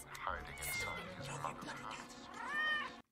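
A cat meows in a Harry Potter film scene, a couple of drawn-out, rising cries heard near and clear, with film dialogue and background score running underneath.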